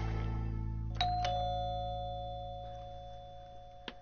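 An indoor doorbell rings two quick chime tones that sustain and slowly fade, then a faint third strike near the end, loud and close, with no talking.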